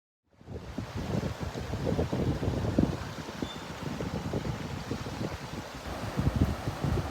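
A high, fast-flowing river carrying ice rushes over a submerged weir, a broad continuous roar with gusty wind buffeting the microphone and no talk.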